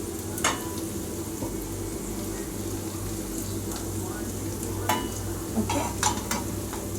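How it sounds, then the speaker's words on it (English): Oil sizzles on a greased tawa over medium flame, ready for frying pearl spot fish; a steady, close, continuous hiss runs throughout with a few faint clicks, and no one speaks. "pouring little oil to fry the fishes, because we need to fry the fish first"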